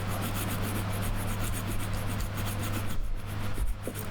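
A saw rasps through a black pine bonsai branch in short, close, steady strokes, fairly quiet with no talk.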